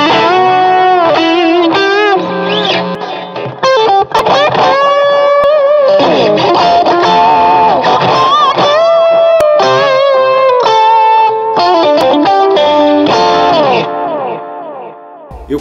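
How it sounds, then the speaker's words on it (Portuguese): Electric guitar on a single-coil pickup with the solo boost switched on, playing a loud sustained lead line with bends and held notes through heavy effects, no talking. "mesmo no single coil, eu vou ligar o boost de solo e pra você escutar"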